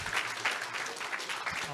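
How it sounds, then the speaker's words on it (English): Audience applause at an energy innovation forum on low carbon innovation, a steady round of clapping from the room lasting the whole moment, moderately loud with some voice mixed in. "Let's give a round of applause for Osama."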